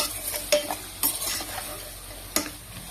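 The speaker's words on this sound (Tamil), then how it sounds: "அதில் தக்காளியை போட்டு நல்லா மிக்ஸ் பண்ணிக்கலாம்." A utensil stirring tomatoes into a frying mixture with green chillies in a pan, a few scraping strokes over a soft, steady sizzle, close and fairly quiet.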